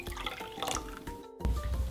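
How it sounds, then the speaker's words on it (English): Water poured into a bowl of crepe batter ingredients, a short burst of close liquid splashing and trickling that breaks off briefly, then resumes with a fuller gush. "Add water."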